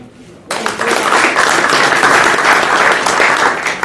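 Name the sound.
audience applause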